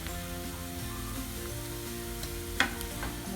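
Chopped onions with chilli sautéing in a pan for a potato egg omelette, a steady soft sizzle with occasional stirring scrapes and one sharper clink, no talk.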